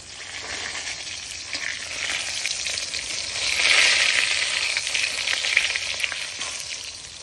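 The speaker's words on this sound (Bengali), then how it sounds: "এখানে এখন বেগুন ভাজা হচ্ছে" Eggplant slices fry in a pan of oil with a steady, dense sizzle that stays close and continuous, swelling louder midway with faint scraping of stirring underneath and no voices.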